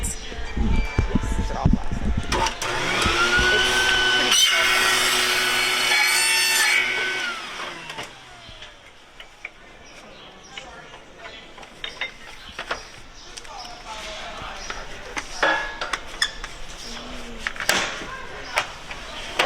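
A power saw cuts through wood at a Home Depot store: a loud whining cut for several seconds, then it winds down into quieter store clatter and people talking nearby.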